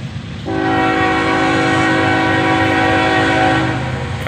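A passing freight train sounds a loud, sustained horn over a steady low rumble, close by, the blast holding for several seconds before easing slightly.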